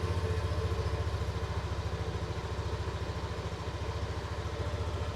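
A Yamaha Aerox 155 scooter engine runs steadily on its own, a fast even low putter with slight clatter throughout; the bike has a fault that makes it stall while riding.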